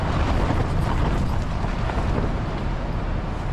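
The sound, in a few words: strong wind banging on a tent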